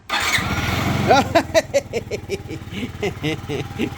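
A Yamaha C3 scooter engine being restored after a clogged fuel line cranks with a rapid mechanical whir, then catches and sputters into an uneven putter of firing pulses up close.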